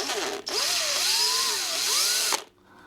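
A small power drill spins a bit into thin, pointy foam of an RC plane, a single high whirring run of about two seconds whose pitch rises and dips as the bit bites, starting and stopping abruptly.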